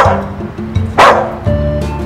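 A trained dog gives a few close, short barks and yips on command, with brief pauses between them and some background noise.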